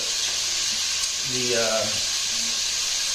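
Vichy carrots browning in a pan give off a steady, close sizzle and hiss as the liquid cooks off, while a voice speaks briefly partway through.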